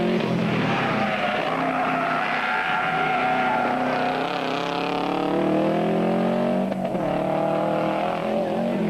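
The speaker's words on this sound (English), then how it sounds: "The L&J plant Subaru Impreza was running to FIA Group A specification" A Subaru Impreza rally car built to FIA Group A specification on a stage at Swartkops, its engine roaring loudly and continuously with rising and falling revs and gear changes, close by throughout.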